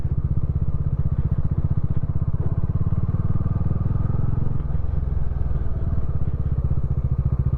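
A Bajaj Dominar 400 motorcycle rides along a Kerala road, its engine a steady, close, continuous throbbing drone with a faint clatter, running unbroken throughout the clip.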